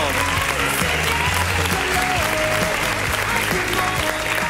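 A studio audience at a Spanish television weight-loss show applauds loudly and continuously, dense clapping throughout with music playing underneath.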